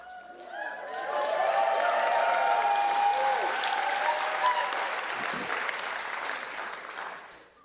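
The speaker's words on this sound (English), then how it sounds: "You are clapping as if you could reach up and touch us." An audience breaks into applause that quickly swells to a full, sustained clatter of clapping, then gradually tapers off near the end.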